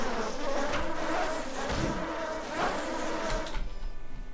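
Insect-like wasps droning in the video game Ashen Empires, a steady close buzzing hum that swells slightly in a few spots and carries on without talk.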